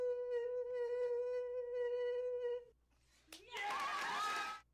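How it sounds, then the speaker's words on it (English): An audience claps for a singer. A short burst of applause enters near the end, loud and dense, right after a sustained sung tone stops. "Oh, and then they encourage him by applauding."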